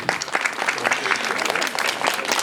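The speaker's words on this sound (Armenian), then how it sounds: "ծափահարենք" An audience claps in dense, continuous applause at close range, lively and sustained throughout.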